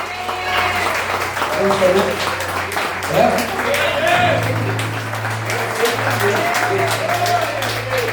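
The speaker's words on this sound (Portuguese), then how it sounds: "As palmas vão ao Senhor." A church congregation clapping in praise, continuous dense applause mixed with a singing or speaking voice and sustained instrumental tones underneath.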